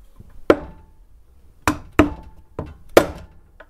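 Small hammer striking the rocker cover of a Suzuki Samurai engine: five sharp metallic knocks, close and loud, irregularly spaced with brief ringing after each, and no talk.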